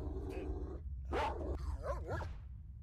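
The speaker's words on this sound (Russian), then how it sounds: "Собака меня вроде бы не услышала, не почуяла, она ж не видит. Это ж слепой пес." A blind dog in the video game SFZ Project lets out a short bark, then a rising growl and several whining, wavering yips, all fairly close and heard with no one talking.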